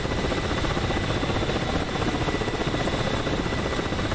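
A Black Shark attack helicopter in a PvP match gives off a loud, unbroken rotor thrum and buzzing engine drone that stays steady the whole time.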